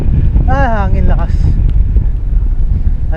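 Strong wind roars and buffets the microphone during a downhill bike ride on the Sierra Madre loop, a loud, steady rush under a voice speaking briefly.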